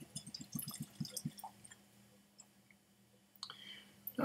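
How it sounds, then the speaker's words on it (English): A dram of Glenlivet whisky pours into a glass at close range, a quick run of soft liquid glugs and drips at the start, then quieter splashes and faint clinks as it settles. "Gonna pour me a dram of this."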